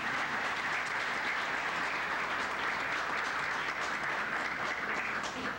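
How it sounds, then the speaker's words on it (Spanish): Steady audience applause at a book presentation in Guatemala, a dense even wash of many hands clapping that holds at a constant level throughout with no voices on top. "Un aplauso para ellos,"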